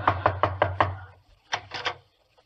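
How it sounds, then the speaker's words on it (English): A door knocked on as a radio comedy sound effect: a quick series of five sharp raps, a short pause, then three more, close and clear with no talking over them. "I'll knock."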